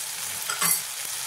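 Ground turmeric, chilli, cumin and coriander powder with two whole green chillies sizzle in a hot pan, a short steady fry with a brief stirring scrape.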